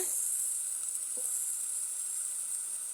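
Ginger and garlic sizzle in hot oil while a fish and chicken curry is cooked, a steady bright hiss that runs evenly throughout with one faint stir or clink near the middle.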